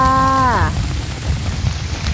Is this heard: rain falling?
yes